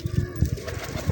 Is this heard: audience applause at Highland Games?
no